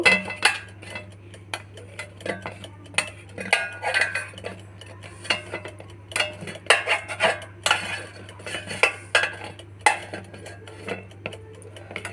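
Crispy pea kachoris are flipped in a pan with a metal utensil, giving a steady run of clinks, taps and scrapes at close range, some sharper than others, with no talk.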